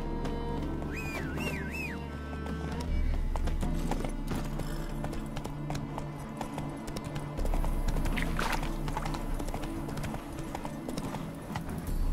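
Horse hooves clip-clop steadily in The Witcher 3, a trotting gait approaching the player, with a brief whistle and a whinny over game music.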